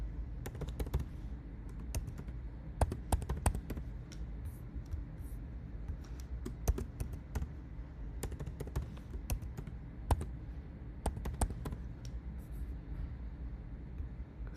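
A password typed on a computer keyboard as rapid, uneven clusters of light key clicks, close and moderately quiet, running steadily with short pauses between bursts and no talking.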